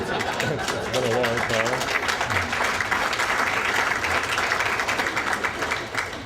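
Dense audience applause rises at an awards ceremony, steady clapping from a room of guests sustained for several seconds, with a voice speaking briefly over it near the start.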